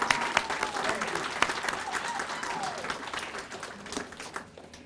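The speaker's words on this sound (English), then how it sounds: "And so we give them a round of applause for their gracious support." A dinner crowd at a veterans' event applauds, dense sustained clapping filling the room for several seconds and slowly tapering off.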